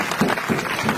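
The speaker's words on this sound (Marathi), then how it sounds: "टाळ्या बाजायच्या टाळ्या" A crowd claps at a village wrestling match, a brief burst of dense, even applause from many hands.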